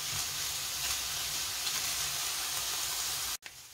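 Steady sizzling of potatoes and chicken frying in a pan, loud and continuous, with faint scraping of stirring, cutting off abruptly near the end.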